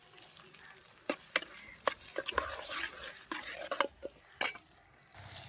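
Tomato pieces for a village-style chicken curry sautéed in a pan after ginger paste, heard as soft sizzling broken by irregular clinks and scrapes of a spoon against metal, fairly quiet and close.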